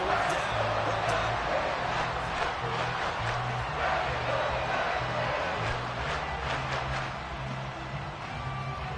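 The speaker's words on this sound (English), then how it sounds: "Some applause for the defense there." A football stadium crowd applauds the defense, a broad sustained roar and clapping that holds steady and eases slightly near the end, with a voice talking over it.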